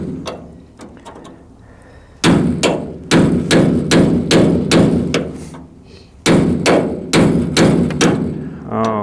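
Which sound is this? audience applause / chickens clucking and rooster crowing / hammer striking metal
hammer striking metal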